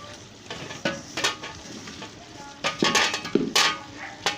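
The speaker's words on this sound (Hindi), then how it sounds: "हम इसमें आलू ऐड करेंगे और अच्छी तरह से चम्मच हिला देंगे।" Spoon stirring sliced potatoes and cauliflower (aloo gobi) in a sizzling pan: a soft frying hiss under scattered metallic scrapes and clinks, busiest toward the end.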